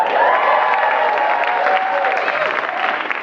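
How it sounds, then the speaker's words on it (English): A comedy show audience at ATL Comedy Arts Fest breaks into loud, sustained applause mixed with cheers and whoops, filling the room for a few seconds before tapering slightly. "I appreciate everybody who clapped"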